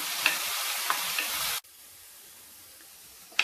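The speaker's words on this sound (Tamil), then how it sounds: "உருளைக்கிழங்கு எல்லாத்தையும் போட்டுட்டு இது ஒரு 2 நிமிஷம் ஹை ஃப்ளேமில் நல்லா ஃப்ரை பண்ணிக்கலாம்." Potatoes frying on a high flame for an Afghani omelette of eggs, potatoes and tomatoes: a loud, close sizzle for about a second and a half, then a sudden drop to a faint, quiet hiss.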